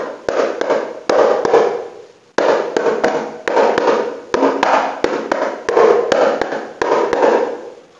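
The second keprak mika of a matched hadroh pair, its mica head tuned identically, is struck in repeated phrases of crisp, snappy taps, loud and close with brief gaps between bursts.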